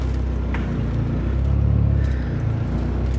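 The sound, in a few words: turbo PT Cruiser GT engine driving through gears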